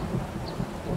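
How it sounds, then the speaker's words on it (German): A thunderstorm in the survival game 7 Days to Die, a steady wash of rain under a low rumbling thunder roll that stays fairly loud across the moment, with no voices. "Oh nein, Gewitter!"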